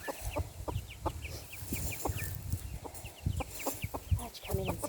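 Chickens cluck in short, repeated calls close by, with bursts of soft clucking and a faint crow-like call over low background rustle.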